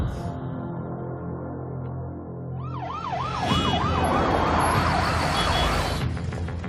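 An ambulance siren wails in a rising-and-falling pattern, growing louder over a low rumble of traffic and crowd noise.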